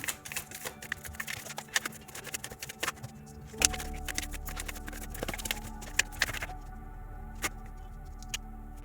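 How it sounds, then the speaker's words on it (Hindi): Tarot cards being shuffled by hand, a dense run of crisp flicks and rapid papery riffles up close, with sharper card snaps scattered throughout and no talking. "तो मैं पहले कार्ड शफल कर लेती हूँ"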